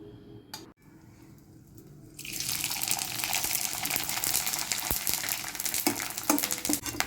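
Ghee for methi ladoo starts sizzling hard in a hot pan after a quiet start and a single knock, then holds a loud, dense crackling hiss close by with no talking.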